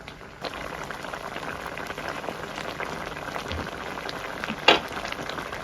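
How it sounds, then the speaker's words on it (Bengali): Raw mango Kashmiri pickle simmering in a pan with ginger and dried chilli gives a continuous bubbling, popping boil up close, with one sharper clink near the end and no voices. "এখন এভাবে আরো কিছুক্ষণ ফুটিয়ে নিব।"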